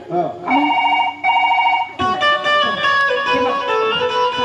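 A phone ringing in repeated bursts of electronic tones, loud and close, followed by shifting melodic ringtone notes.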